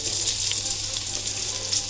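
Drained endives set into browned butter in a hot frying pan, giving a steady close sizzle and hiss with no talk over it.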